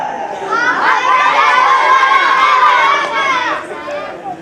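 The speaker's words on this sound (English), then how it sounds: "Let's cheer up for Lions Wing." A crowd of boys at a school co-curricular competition cheers for Lions Wing, the shouting swelling into a loud, sustained roar of many voices for a few seconds before fading back.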